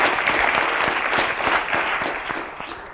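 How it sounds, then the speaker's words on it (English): Lecture-hall audience applauding a volunteer participant at a medical talk: a loud wash of many hands with distinct individual claps, steady at first and then fading toward the end. "So please give him a round of applause for participating"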